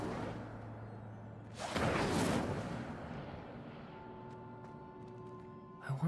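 An Incendio fire spell is cast in Hogwarts Legacy, a sudden roaring whoosh of flame lasting about a second, loud against a low game ambience that follows.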